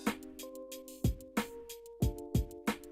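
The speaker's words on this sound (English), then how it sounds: "All you've really got is drums and E-piano." An Ableton Live scene with only a drum beat and electric piano: punchy kick and snare hits land in a steady groove under sustained, mellow electric piano chords, clean and close.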